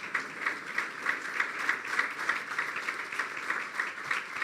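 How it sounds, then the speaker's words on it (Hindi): A church audience applauds in a steady, dense patter of many hands, moderately loud and even, with no talking over it. "तालियां बजाते रहो ताकि मैं पानी पीता रहा।"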